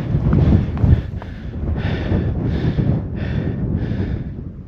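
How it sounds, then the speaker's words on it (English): Wind gusting across open ground on a cold winter walk in the Peak District, a steady close rushing roar with rhythmic surges buffeting the microphone, with no voices heard. "That wind's picking up a bit."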